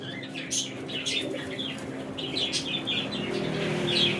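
Pigeons being caught flap their wings in bursts close by, with soft cooing and chirps in the background.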